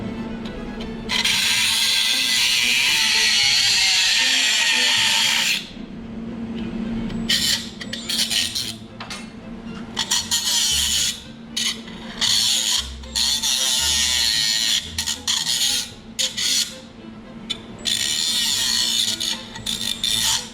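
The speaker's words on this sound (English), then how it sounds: "And what I'm going to do for the rest of the cut is I'm going to use the grinder." A battery-powered angle grinder cuts and cleans up sheet metal edges during rust repair on a 1970 Nova, running in a long steady whine, then in repeated short bursts separated by brief pauses.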